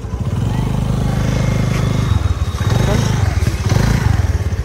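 A scooter engine runs and revs during a riding lesson, a close, steady putter with some revving, while people talk over it.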